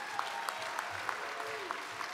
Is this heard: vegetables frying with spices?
no